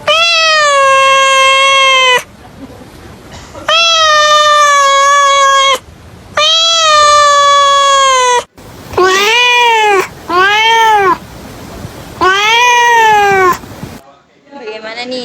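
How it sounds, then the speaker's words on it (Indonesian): A cat meows repeatedly and loudly in a played cat video, long drawn-out cries separated by short pauses, some calls wavering and bending in pitch like wailing. "sekarang kita simak ya video kucingnya ya"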